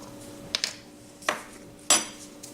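Utensils clink and scrape against a bowl in a few sharp, separate taps as garlic, salt and sauce ingredients are mixed together, close and quiet with no talk.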